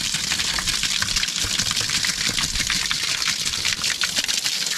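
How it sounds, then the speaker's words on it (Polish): Water poured over a sand bed to settle and compact it during construction of a composite-board terrace, a continuous hissing gush that runs steadily throughout, close and moderately loud. "Wylewam ten piasek wodą, żeby trochę osiadł, żeby to się zagęściło w ten sposób."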